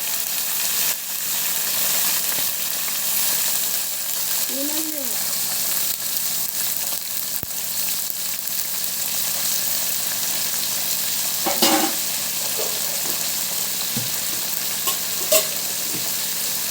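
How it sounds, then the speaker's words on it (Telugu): Eggplant frying lightly in oil, a continuous soft hiss of sizzling with occasional stirring clinks and scrapes, close and steady throughout. "ఆయిల్లో లైట్గా ఫ్రై చేసుకోవాలి కలర్ మారే వరకు."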